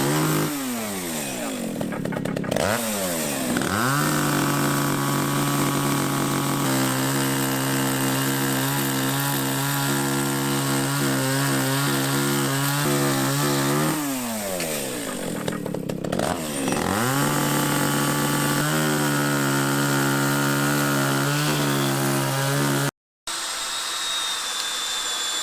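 A chainsaw works through wood during a roof renovation on an old longère, its engine loud and close, revving up and down repeatedly and settling into long sustained cutting drones, with a brief cut-out near the end.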